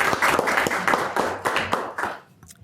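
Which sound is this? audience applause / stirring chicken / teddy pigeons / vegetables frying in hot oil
audience applause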